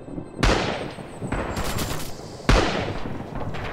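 Machine gun fire in a World War II video game set at Oosterbeek, with loud rattling bursts close by and a few sharp separate shots, heavy and continuous across the clip.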